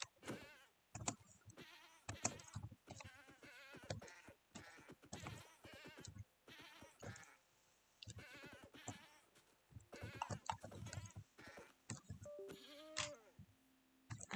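A goat in a video game bleats several times among quiet game sounds and clicking, low in level.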